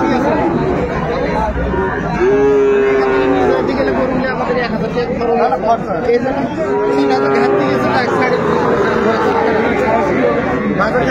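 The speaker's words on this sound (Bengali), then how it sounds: "সুন্দর গরুগুলো কালেকশন করছে মোমিন ভাই।" Sahiwal bull calves low at a busy Gazipur cattle market: two separate moos rise over constant crowd chatter and close bargaining voices.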